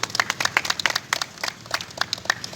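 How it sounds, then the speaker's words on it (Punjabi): Outdoors at a tree-planting drive by a youth club and local shopkeepers in Tripri, Patiala, a small group claps in scattered, uneven bursts of sharp hand slaps, moderately close and not perfectly in unison. "ਮੈਂ ਸਾਰੇ ਵੀਰਾਂ ਨੂੰ ਕਹਾਂਗਾ ਇੱਕ ਵਾਰੀ ਤਾੜੀ ਲਗਾ ਦਿਓ ਯਾਰ"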